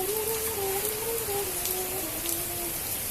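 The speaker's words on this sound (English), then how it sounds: "We're afraid of the rain." Steady rain patters on a surface in Tokyo, a dense even hiss with a faint tonal hum running underneath.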